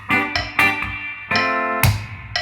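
Electric guitar plays bar 24 of a song with an extra dead note, several short bright chord hits in a syncopated pattern, close and alone.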